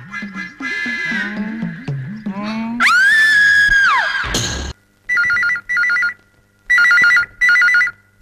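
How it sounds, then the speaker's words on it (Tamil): A telephone rings in repeated paired bursts after a stretch of squealing, shrieking sounds; the rings are loud and close, with brief gaps between them. "போன் அடிக்குது எங்கடா போயிட்ட"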